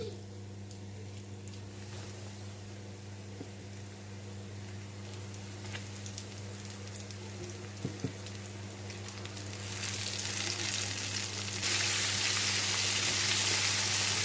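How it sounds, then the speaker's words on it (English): Coated chicken drumsticks frying in hot oil, a steady low hiss and sizzle under a constant hum that swells brighter and louder toward the end. "So we're going to fry these until they are lightly golden brown"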